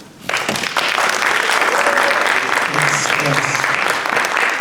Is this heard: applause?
yes